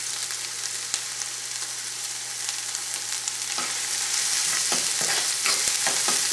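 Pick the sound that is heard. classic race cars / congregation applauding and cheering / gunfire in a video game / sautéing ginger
sautéing ginger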